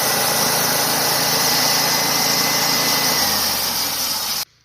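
A sawmill engine runs steadily on an Alaska homestead, a loud, constant close-up drone with rough vibration that holds for several seconds before cutting off abruptly.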